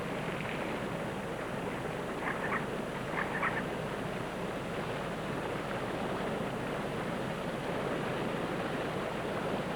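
Harlequin ducks call beside a rushing stream, a couple of short faint squeaky calls rising over the steady roar of white water.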